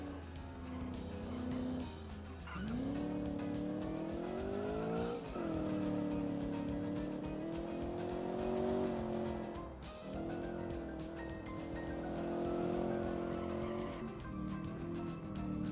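A fast video game car engine howls at high revs, pitch climbing and dropping through gear changes with tire squeal as the car struggles for grip, steady and fairly quiet throughout.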